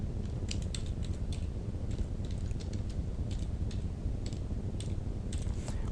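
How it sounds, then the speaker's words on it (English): Typing an SQL Create Table command on a computer keyboard, a steady run of quick, soft key clicks over a low hum, close and continuous throughout. "so let's type it in."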